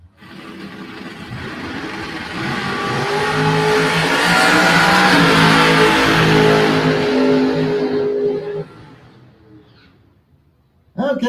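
A Chevy Camaro drag racing down the strip roars loudly, its engine climbing through revs and building to a peak before fading into the distance, with a brief burst at the end.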